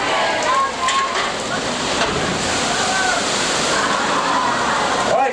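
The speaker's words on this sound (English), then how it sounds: "we just dumped over 400 gallons of water over that pot" A huge deluge of over 400 gallons of water is dumped onto a set as a studio special effect, a dense roaring wash of splashing and pouring that stays loud and steady throughout, with faint voices underneath.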